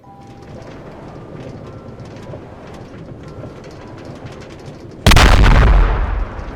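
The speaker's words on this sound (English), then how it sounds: "the explosion was very good" A loud explosion in the Minecraft video game bursts suddenly near the end after a stretch of low background sound, then decays over about a second.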